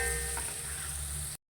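Chopped onions sautéing in a pan while upma is cooked, a steady even sizzle held for over a second before it cuts off abruptly.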